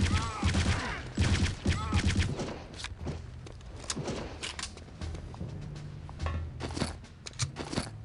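Rapid bursts of gunfire from the shooter game Return to Castle Wolfenstein crackle in clusters. Footstep-like crunches sound between the bursts, and brief game noises sit over a low background hum.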